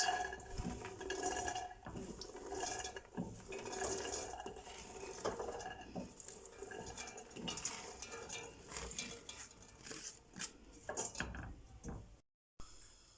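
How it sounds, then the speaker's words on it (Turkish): Washed and drained loose corn kernels pour and rattle into a metal pot in a continuous clattering stream, with scraping and shifting sounds before a brief pause. "Yıkayıp süzdürdüğümüz mısırlarımızı tenceremizin içerisine boşaltıyoruz."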